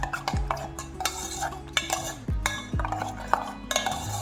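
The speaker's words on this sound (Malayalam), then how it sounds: "നന്നായി ബീറ്റ് ചെയ്തെടുക്കാം." Eggs for an omelette being beaten in a bowl, with quick repeated clinks and scrapes of the utensil against the bowl, close and steady, with no talking.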